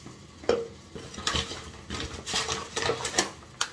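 Spoonfuls of oat flakes tipped into a shaker, a series of light scraping clatters and taps from the spoon against the container, close up with no talking.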